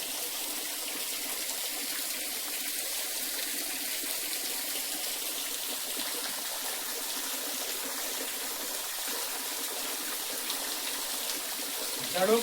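Spring water flows down from the mountains at a holy site, a steady trickling, gushing rush heard close and continuous throughout, with a slightly louder splash at the very end.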